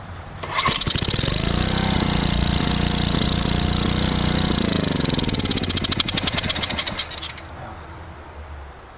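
Small engine on three-quarter choke firing up after a gasket job, sputtering into a loud, steady buzzing run, stepping up in speed midway, then cutting out with a fading rattle.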